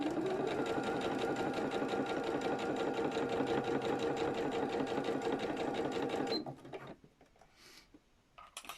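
A sewing machine stitches a zipped top bag in a fast, steady, close mechanical run for about six seconds, then stops. A few faint handling sounds follow the stop.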